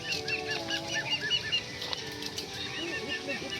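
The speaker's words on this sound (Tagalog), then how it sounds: "Ito lang yung pato ni Tito King." Ducks belonging to a relative gathered in a yard, quacking and chattering in a busy, overlapping flock close by, with flapping wings and people talking over the calls.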